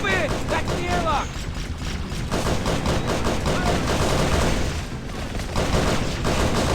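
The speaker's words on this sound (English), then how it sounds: "The assault rifle is probably my favorite gun in this movie." An assault rifle chatters in Halo SPV3, loud rapid bursts of automatic fire overlapping with explosions and battle noise, while a voice talks over the continuous firefight.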